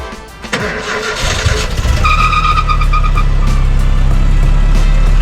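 A lowered Nissan D21 Hardbody pickup cranks briefly and fires up, settling into a loud, deep, steady exhaust rumble close by that holds for several seconds.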